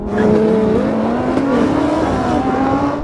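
Lamborghini Huracan, Audi R8 and Nissan GT-R launching side by side in a drag race, a loud continuous engine roar with rising revs and tire noise that holds steady throughout, no talk.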